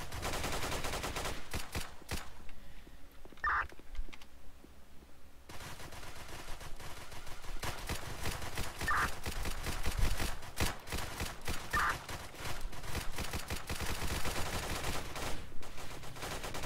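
Gunfire from gang violence in a video game rattles in dense repeated volleys across the whole stretch, fairly quiet and steady, with a short lull partway and no talk.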